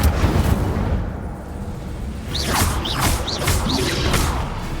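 A fire spell cast in the Hogwarts Legacy video game: several bright whooshing bursts fire in quick succession over a dense rumbling battle backdrop, loud and close.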